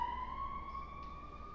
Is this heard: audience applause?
no